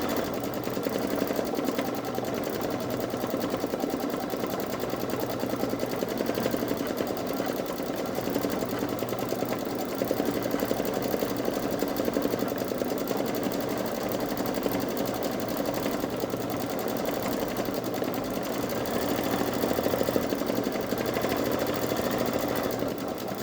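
A Babylock Solaris Vision embroidery machine motor runs with a steady, rapid mechanical whirring and needle chatter, even in level and continuous for over twenty seconds, close by and without voices.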